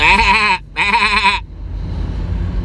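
Two loud, close sheep bleats come from a sound effect, each a wavering, quivering cry cut by a short gap, followed by a softer noisy tail.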